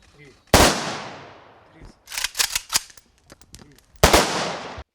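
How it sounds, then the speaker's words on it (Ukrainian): Firearm volleys fired as a salute in honour of war heroes at a cemetery: three sharp, loud cracks, the middle one a ragged cluster of staggered shots, each echoing and fading outdoors. "На честь героїв салютують зброєю."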